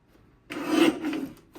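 A paper trimmer slices scrapbook paper in one short, close scraping stroke that rises quickly from near silence and fades about a second later.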